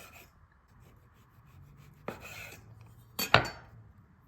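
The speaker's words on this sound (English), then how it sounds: "So here I'm just slicing up some pepperoni" A knife cuts through a thick pepperoni stick on a board, giving a soft first stroke and then a sharper, louder double chop near the end, close by against quiet background.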